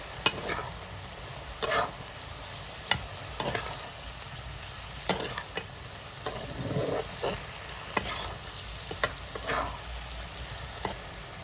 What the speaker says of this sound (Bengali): বাঁধাকপিটা এভাবে আমি খুন্তি দিয়ে চাপ দিলেই কেটে যাচ্ছে, তার মানে বাঁধাকপিটা ভালোভাবে ভাজা হয়েছে